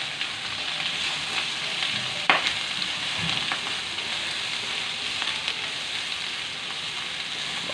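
Garlic fries in hot oil for pakbet, giving a loud, steady, close sizzle throughout, with a brief clatter partway through.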